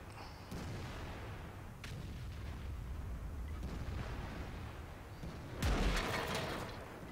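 E100 heavy tank firing its 15cm gun in World of Tanks, a few deep booming shots over a steady engine rumble, with one loud blast near the end.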